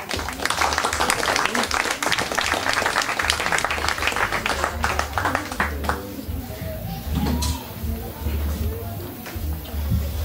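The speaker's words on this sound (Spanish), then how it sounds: "Recibamos con un fuerte aplauso al señor Daniel Carzana." Audience at a community mediation unit inauguration applauds to welcome a speaker, dense clapping filling the first half and thinning to scattered claps over a low hum and murmur.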